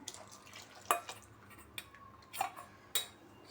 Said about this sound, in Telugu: ఈ రకం కొంచెం స్పూన్తో తిప్పుకొని అడుగుని కూడా ఈ పాలల్లో పోసేసుకుందాము